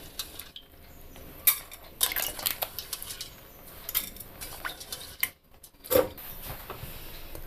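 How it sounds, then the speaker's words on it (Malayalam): Roasted green gram dal is shifted into a pressure cooker, with repeated light metallic clinks and scrapes of a spoon against the vessel, irregular and fairly quiet against a soft background hiss. "അതിനായിട്ട് ഒരു കുക്കറിലേക്ക് മാറ്റാം."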